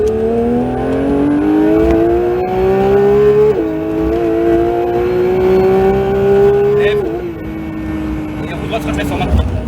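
A Porsche 911 GT3 (992) accelerates on a track at the Castellet driving center, its engine climbing loudly in pitch through gear changes with brief dips between shifts, heard from inside the car.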